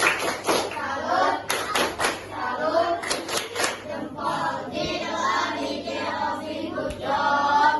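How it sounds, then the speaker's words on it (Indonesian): A class group in an Islamic education session performs the rhythmic tepuk salut clap: a quick run of crisp patterned claps, then chanting voices carrying on with scattered claps beneath. "Mari kita kasih tepuk tangan. Salut, tepuk salut."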